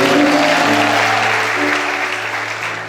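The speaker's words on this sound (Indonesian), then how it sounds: "Tepuk tangan yang meriah bagi Tuhan." A church youth congregation breaks into loud applause, many hands clapping in a dense wash that starts strong and gradually fades, with a faint sustained musical tone underneath.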